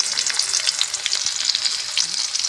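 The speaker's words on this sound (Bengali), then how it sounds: "তো চলুন এবার আস্তে তেলে সব ছাড়ি।" Tomatoes, green chillies, peas, ginger, garlic, onion and potato dropped into hot oil for a Bengali fish curry, a loud crackling fry with stirring, close and continuous without speech.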